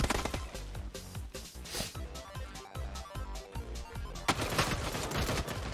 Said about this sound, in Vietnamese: Ba Tu bắn như hách à?